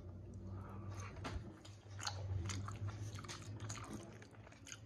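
Soft chewing and biting of stuffing, cornbread, baked chicken and mac and cheese from Boston Market, close and quiet with moist squishy mouth sounds and no talking.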